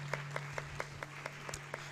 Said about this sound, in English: Let's clap for them as they make their way there.